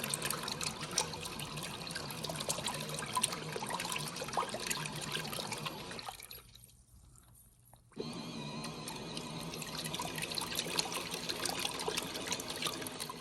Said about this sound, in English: let you listen to actually what it sounds like when it's working with the water in it